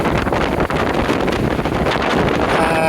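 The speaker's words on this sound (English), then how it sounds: "Very windy here" Strong wind at the Gozo ferry in Malta buffets the microphone with a constant roaring rumble, steady and loud throughout, with no voices.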